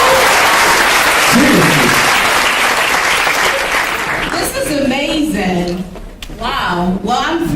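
Loud audience applause fills the room at a PANASA Africa Night 2014 show opening, dense clapping that fades after a few seconds as hosts begin talking over the tail end.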